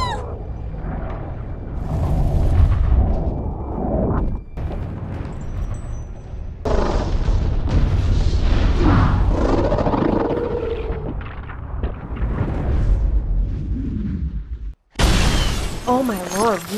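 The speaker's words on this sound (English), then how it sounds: "Whoa, that was actually a massive explosion." A massive explosion in the sci-fi action film Edge of Tomorrow: loud, dense rumbling blasts and roaring debris, with a brief drop to silence near the end before a final burst. People talk over it.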